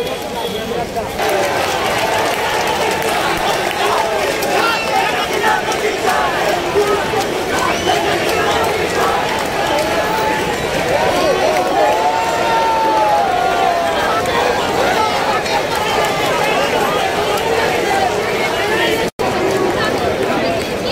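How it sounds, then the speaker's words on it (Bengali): Thousands of university students on a protest march in the street chant slogans, a loud, dense crowd roar of voices that runs steadily throughout. "তারা মিছিল দিয়ে যাচ্ছে, তারা স্লোগান দিচ্ছে"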